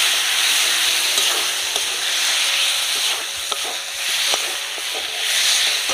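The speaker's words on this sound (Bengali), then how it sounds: "ভালো করে এবার মশলাটা কষিয়ে নেব।" Spiced paste of cumin, dried red chili, coriander, turmeric and salt sizzles steadily in a pan for a tuna kalia, with a continuous close frying hiss broken by soft scraping stirs and small clicks of the spatula.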